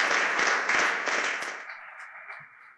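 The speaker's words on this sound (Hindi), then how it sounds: "एक बार जोरदार तालियां बजा के।" Audience applause for a Gandhi Mandela Foundation organiser at a Nelson Mandela Day event: a dense burst of clapping that gradually thins and fades over about three seconds, with no talk.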